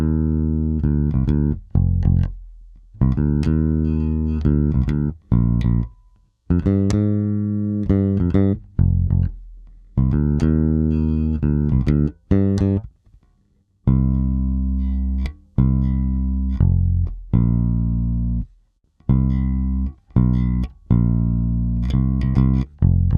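Jazz-style bass guitar on its active circuit with the blend pot centered for both pickups, playing a hip-hop shuffle groove: bursts of deep, sustained bass notes with short gaps between phrases, loud and close, no talking.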